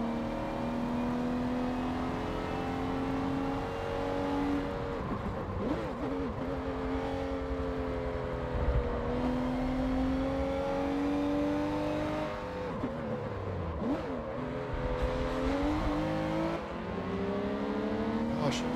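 Car engine revving and accelerating while following close behind an Audi on the road, a loud steady drone with rising and falling pitch through gear changes, near and continuous.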